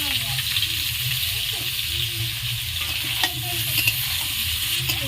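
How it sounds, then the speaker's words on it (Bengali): Boiled potatoes fry in oil for a jackfruit and prawn dish, producing a continuous close sizzle with light stirring, and a voice is faintly present in the background. "সেদ্ধ করে রাখা আলুগুলো, এগুলো আমি হালকা লাল লাল করে ভেজে নেব"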